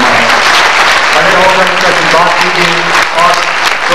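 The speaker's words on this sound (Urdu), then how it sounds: "اور پرجوش تالیوں سے" Audience applause greets a guest taking the stage at an event, a steady, dense wash of clapping held at full level for the whole stretch, with a voice speaking faintly beneath it.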